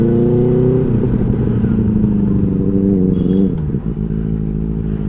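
A Benelli 600i superbike with a loud aftermarket exhaust drones steadily while being ridden on a rural road, its deep engine note holding constant and loud before dipping briefly.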